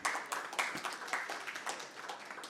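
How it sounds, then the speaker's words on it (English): Conference audience applauding panelists at a private equity and venture capital event, a moderate burst of hand clapping in a hall that slowly thins over a couple of seconds. "there has to be a bigger round of applause for all our panelists"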